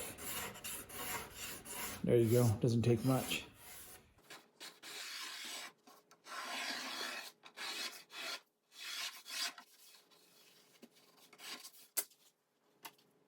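Hand sanding of wooden mitered joints: a rough, rasping rub in uneven strokes, close by, with a short spoken remark early on.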